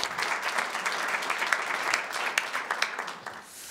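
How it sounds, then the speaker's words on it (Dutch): A studio audience at a Dutch tech talk show about biohacking claps warmly, a moderately loud stretch of dense applause that thins into a few scattered claps and fades near the end. "Mag ook wel een warm applaus doen"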